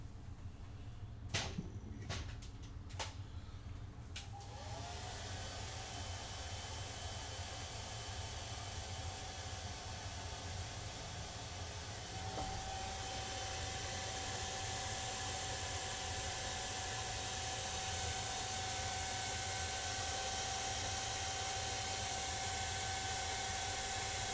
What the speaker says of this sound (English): Where's my hair dryer?